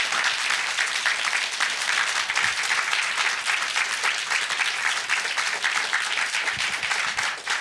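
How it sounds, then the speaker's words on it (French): An audience at a talk breaks into steady, dense applause, many hands clapping continuously at close range for several seconds before tapering at the end. "On peut l'applaudir."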